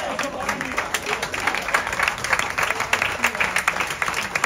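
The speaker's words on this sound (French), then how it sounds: "On peut les applaudir, on peut les applaudir." An audience applauds participants at a live hypnosis show, dense sustained clapping with crowd noise throughout and some voices mixed in.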